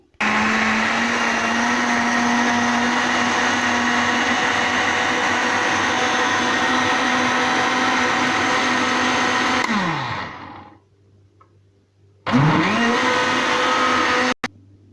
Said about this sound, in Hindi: अभी इसको हम ब्लेंडर को चलाएंगे।